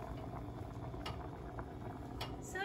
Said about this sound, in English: And the pasta is boiling.